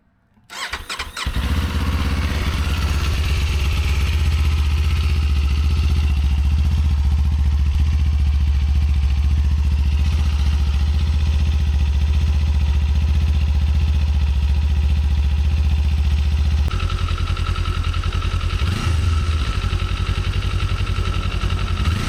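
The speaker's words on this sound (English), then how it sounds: "So this is with the stock exhaust." A Kawasaki Z 500 SE motorcycle with its stock exhaust starts up, then settles into a loud, steady idle with strong low rumble. It continues alone and close, with a slight shift in tone near the end.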